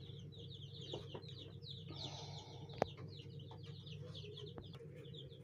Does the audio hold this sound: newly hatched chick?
yes